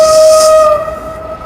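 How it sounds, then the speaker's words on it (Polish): Steady two-tone whistle of a passing train with a broad hiss of rushing air, loud at first and fading away over about a second and a half. "Pociąg jedzie."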